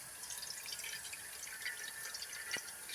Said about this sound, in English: So what I'll do now is I'll turn on the tap.